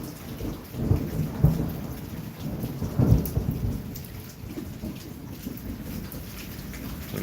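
A thunderstorm in East Oklahoma City brings steady rain pattering on surfaces, with a couple of close, heavy thunder rumbles swelling over the downpour.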